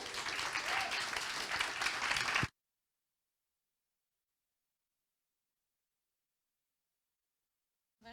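Conference audience applause welcoming a speaker, with dense clapping for about two and a half seconds that cuts off abruptly into silence.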